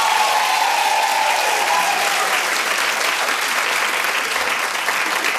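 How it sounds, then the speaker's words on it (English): A studio audience applauds warmly after an Oscar nomination is announced, steady close clapping sustained throughout with faint crowd murmur. "they clapped after every single nomination"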